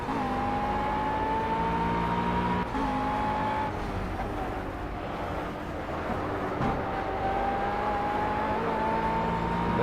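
A race car in Project CARS on the Brands Hatch circuit drones at high revs and holds a rising engine whine, with the rival leader's car close behind, the steady loud roar dipping briefly at gear changes.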